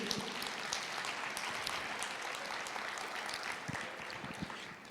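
A church congregation applauding, a steady wash of many hands clapping together for several seconds, moderately distant and fairly soft.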